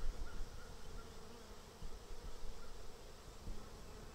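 Bees droning inside an open beehive in good condition, a dense continuous buzz with no pauses, fairly faint and heard alone.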